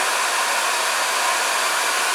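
A hair dryer blows with a steady, loud rushing whoosh, unbroken from start to finish.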